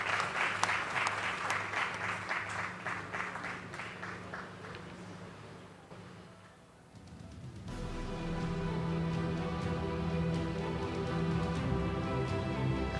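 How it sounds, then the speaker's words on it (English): Audience at an evening awards ceremony applauding a recipient, dense sustained clapping that eases off midway, then continues under a steady musical backdrop. "Another round of applause, please, for our first recipient, Mohammed Samara."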